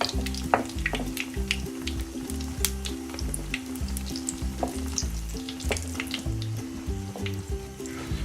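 An egg roti sizzles in a pan over medium-low heat, a steady close crackling fry with small pops and occasional scrapes running throughout.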